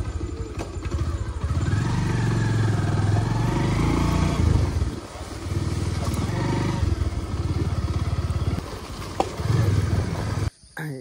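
A motorcycle carries riders along a road, its engine droning steadily and close for most of the ride with brief dips, wind noise over it and no talk.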